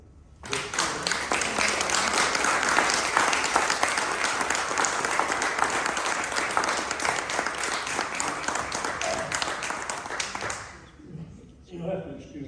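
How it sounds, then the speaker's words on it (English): A sustained round of applause from an audience at a folk school gathering, loud and steady for about ten seconds before cutting off, followed by faint voices. "join me in giving them a round of applause for their enthusiasm and support"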